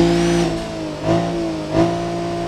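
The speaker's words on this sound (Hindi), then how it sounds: "साउंड सुनाओ तुम्हें गाड़ी का।" A Mercedes-Benz SUV engine in GTA 5 revs twice in quick succession over a steady idle, each surge rising and falling, close and fairly loud with no talk.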